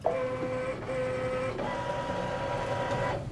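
A sewing machine stitching quilt sashing and cornerstones, running close and steadily in a whirring hum that shifts pitch midway, a needle-position adjustment where the bobbin thread failed to catch, with no talk.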